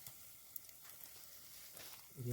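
Cumin and mustard seeds sizzle in hot ghee over a night campfire cooking setup at Harishchandragad fort, a faint, steady crackle with a few soft pops and a low hum rising at the end.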